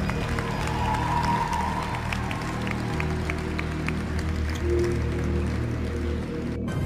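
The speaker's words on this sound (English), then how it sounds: "please give another huge round of applause to our great Archbishop, Archbishop Charles Chaput" A large audience applauds Archbishop Charles Chaput, a steady, continuous roar of clapping that holds at an even level throughout, dense and moderately distant like a big crowd in a hall.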